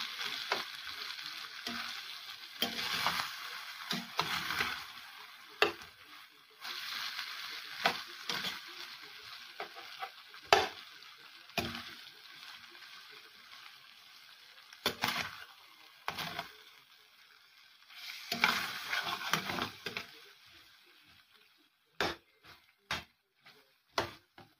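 Beef frying in a pan for beef and black beans, stirred steadily so it won't burn: bursts of crackling sizzle come and go with the strokes, ending in a few sharp separate clicks.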